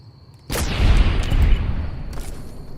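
Gunshot from a weapon in Fallout: New Vegas, a single loud booming blast with a sharp onset followed by a rumbling tail that fades slowly.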